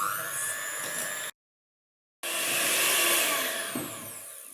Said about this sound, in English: So I've got my sugar and my eggs on there now, and I'm just going to whisk it.